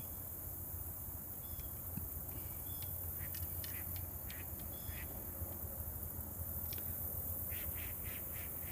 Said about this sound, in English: More swamp, lots of ducks out here too.